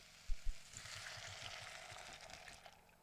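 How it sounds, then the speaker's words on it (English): Chopped tomatoes sizzle and crackle in a hot pan, a soft continuous fry, with a couple of low knocks near the start as the pan is moved. "Can you hear that sizzling? I just love that sound."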